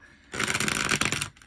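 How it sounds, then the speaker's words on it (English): A deck of tarot cards is shuffled in one continuous riffling burst of about a second, close and crisp, with quiet around it. "One more shuffle for my Virgos."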